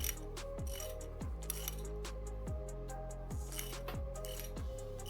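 A valve spring compressor being cranked down on a Barra engine: repeated ratcheting clicks with metallic clinks and falling mechanical tones that cycle roughly every half second, close and steady, with no talking.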